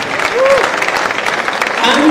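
An audience claps steadily at an African awards ceremony, a dense, even patter of many hands, with a voice speaking over it.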